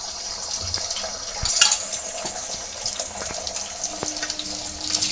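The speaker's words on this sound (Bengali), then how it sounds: "এইভাবে কড়াইতে তেলের উপরে দেবো ডিমটা" An egg drops into hot oil in a wok and sputters, giving a sharp burst of crackling sizzle followed by lighter spitting and a few small clinks.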